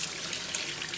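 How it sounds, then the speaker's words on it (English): Running tap water streams and splashes steadily into a sink as a Fuller's earth (Multani mitti) face mask is washed off with normal room-temperature water, a constant close hiss with no voices. "wash it off properly with the normal cold water"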